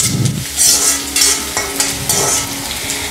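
Diced onions fry in hot oil with a steady, loud sizzle, and a spatula scrapes and tosses them in the pan in repeated strokes. No one speaks.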